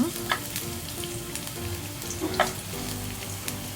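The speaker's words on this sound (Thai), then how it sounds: "ผัดจนกระเทียมหอม กรอบเหลือง" Garlic stir-fries in oil until golden and crisp, a dense, close sizzle with soft spatters and occasional stirring taps, heard alone without talking.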